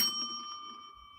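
A bell dings on a morning radio show, its bright tone ringing and slowly fading through the moment, with a fresh faint strike right at the end.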